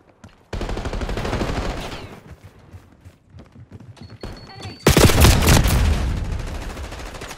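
Gunfire in a Call of Duty Black Ops 6 multiplayer match, loud rapid automatic bursts in two stretches with a quieter gap between, close and dense, with a brief voice in the mix.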